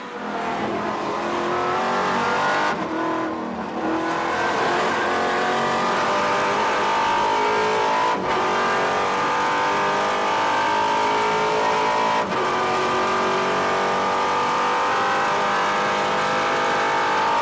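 A race car in the number 8 Three-Dimensional Services Group entry runs at speed on a road course, its engine roaring steadily and loud throughout with brief gear changes, approaching a hill crest and hard braking into a left-hand turn.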